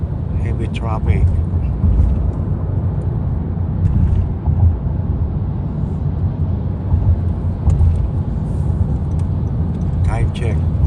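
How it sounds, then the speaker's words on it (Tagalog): Heavy road traffic on a Friday afternoon heard from inside a moving car: a steady low rumble of engines and tires with faint wind noise, constant and moderately loud, with occasional brief sounds from outside. "Heavy traffic."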